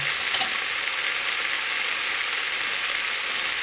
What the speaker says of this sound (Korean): 앞뒤로 지글지글 구워서 도시락에 넣을 거예요.